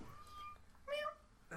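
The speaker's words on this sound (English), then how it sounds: "demon cat speaks" A cat lets out a short, faint meow partway through, with voices and background chatter around it.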